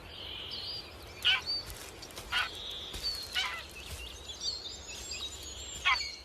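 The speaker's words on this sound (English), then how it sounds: "The young greylag geese have just hatched." Newly hatched greylag goslings call from a forest floor with repeated high, thin peeping cries, several separate calls over steady background hiss, moderately close and clear.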